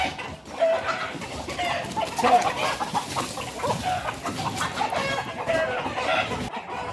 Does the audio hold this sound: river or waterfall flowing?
no